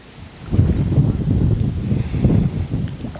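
Gusty wind rumbling across an open-air microphone while fishing outdoors, a steady low buffeting that swells and eases over a few seconds with no talk.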